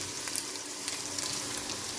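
Onions and ginger-garlic paste fry in a pan for a mutton kofta gravy, giving a steady soft sizzle with small crackles and pops and no voices.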